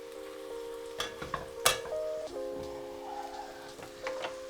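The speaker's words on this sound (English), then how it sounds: "Just give it a nice stir." Sliced garlic sizzles quietly in a pot for a spicy tomato and mussel dish, stirred with several sharp knocks and scrapes of a utensil, over a steady low hum.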